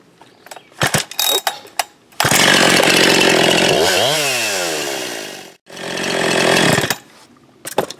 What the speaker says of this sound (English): Well, that's a strong freaking saw right there.